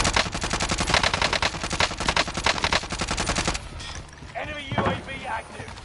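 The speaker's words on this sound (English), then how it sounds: "I'm gonna shoot him up." Rapid automatic gunfire from the shooter game Warzone rattles loud and close in dense bursts for several seconds, then gives way to sparser shots and game effects as a voice talks over it.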